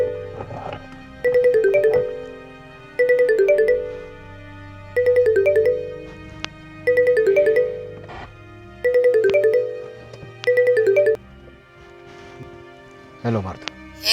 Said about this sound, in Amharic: አባዬ ስልክ እየጠራ ነው።